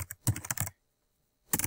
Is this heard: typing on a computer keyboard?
yes